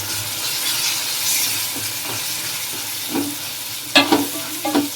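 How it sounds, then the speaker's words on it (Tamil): Tomato and sambar powder masala sizzles in a pan while being sautéed, a soft steady frying hiss broken by a few sharp scraping stirs of a spoon toward the end, close up and without talk. "இப்ப இதை நம்ம திரும்பவும் வதக்கி எடுத்துக்கலாம்"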